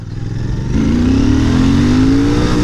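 A Royal Enfield Bear 650 scrambler motorcycle revs hard on a sudden throttle twist, its engine note climbing steadily and loud, close by, with no talk over it.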